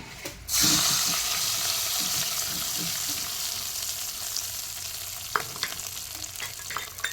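Tempering sizzling in hot oil for tamarind leaf and brinjal dal, a sudden loud hiss as it hits the pan, then a steady crackling fry with a few clinks of stirring near the end.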